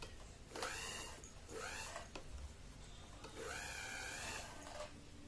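Domestic sewing machine stitching a shahi mastani saree in bursts, with short rhythmic whirring runs separated by pauses, close and moderately loud with low background noise.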